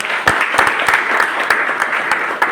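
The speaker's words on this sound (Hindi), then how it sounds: "तालियां बजा रहे, अच्छे से बजाना" An audience at a motivational talk on the importance of money claps steadily. The applause is close and dense, with sharp individual claps standing out from the wash.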